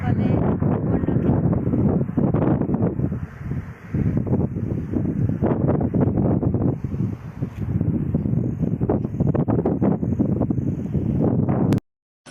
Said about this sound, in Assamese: ইমানেই বতাহ, চুলি উৰি গৈছে পূৰা।